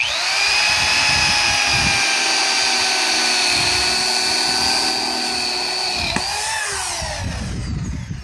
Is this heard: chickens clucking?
no